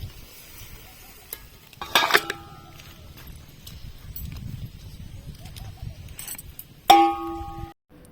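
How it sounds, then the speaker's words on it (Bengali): Onions fry in a wok over a wood fire for mutton biryani, a low steady sizzle broken by a couple of sharp metal clangs from stirring, with faint birdsong in the background and no talk. "তো এখন হচ্ছে পেঁয়াজ ভাজা"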